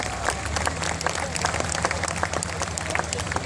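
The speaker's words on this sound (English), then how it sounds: "Let's give her a big round of applause." Crowd applause and cheering in the grandstands at a truck and tractor pull, a burst of scattered clapping with some rumble underneath, fairly close and lively.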